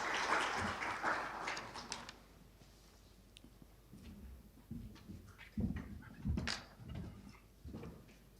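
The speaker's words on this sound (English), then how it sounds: "Let's welcome him by a round of applause" An audience at a provincial tourism stakeholder engagement applauds to welcome a speaker: a burst of clapping for about two seconds, fairly distant and modest in level, then scattered thumps and movement noises.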